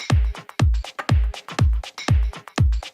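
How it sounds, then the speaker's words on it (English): A kick drum added to a percussion loop in FL Studio, with deep, booming kicks hitting on a steady pulse about twice a second under lighter ticking percussion, loud and alone with no talking. "Okay, and if I turn on the kick drum, it sounds like this."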